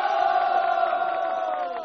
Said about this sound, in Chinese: 我们掌声再祝贺他一下